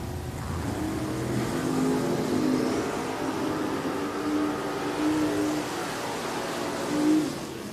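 A Chevelle and an S10 make a drag racing pass at Richmond Dragway, engines droning at a distance under a steady hum, with a slight swell near the end.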